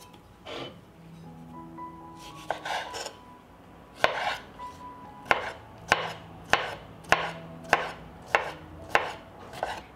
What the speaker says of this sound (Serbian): I iseckat ću 3 kisela krastavca sitno.